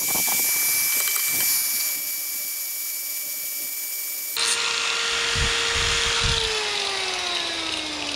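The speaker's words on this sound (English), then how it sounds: "I'm using the sand disc because we only want to take off tiny, tiny little bits" An electric power tool fitted with a sanding disc lightly sands metal while building a homemade barn door kit, a steady high motor whine that shifts pitch midway and then slowly winds down, loud and close with no talk.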